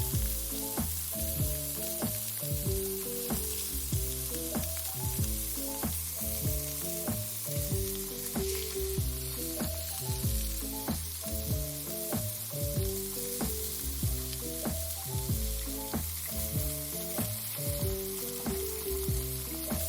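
Steady, loud sizzling and bubbling of Guyanese bakes dough frying in hot oil, a continuous crackle with no voices.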